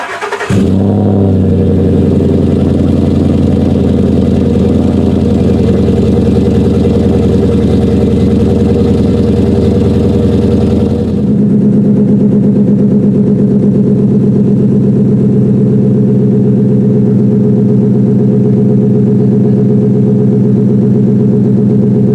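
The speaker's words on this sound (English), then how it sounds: "Alright, now I've got the Flowmaster muffler on." A Ford Super Duty 6.2 engine idles through a four-inch Flowmaster muffler exhaust, making a loud, steady, deep rumble. A brief rev near the start settles into an even idle, which drops slightly in pitch partway through, and no one speaks.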